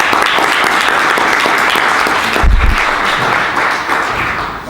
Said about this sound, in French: Donc, on peut les applaudir également.